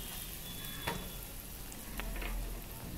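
Turmeric powder frying and being stirred in a hot pan while cooking chicken with gondhoraj lemon, a steady close sizzle with a few scraping stir strokes and no talk.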